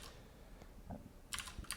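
Quick bursts of keystrokes on a computer keyboard during a programming session, two short clusters of crisp clicks close to the microphone against a quiet room.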